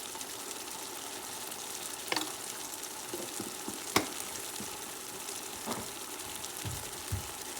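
Onions frying in a pan for a fish curry paste, a steady soft sizzle with occasional stirring clicks and scrapes, fairly quiet and without talk.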